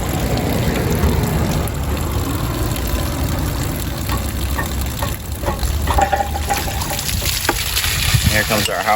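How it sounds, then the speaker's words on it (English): Hot water drains from a 6-gallon RV water heater, a steady, loud rushing and splashing stream close by with a constant hiss and some low rumble underneath. "Here comes our hot water. Holds up to 6 gallons. Just gonna let that drain out."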